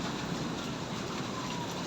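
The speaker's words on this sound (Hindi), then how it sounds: "अभी भी बारिश हो रही है फुल।" Heavy rain pours down in a dense, constant hiss, loud and unbroken, with no voices over it.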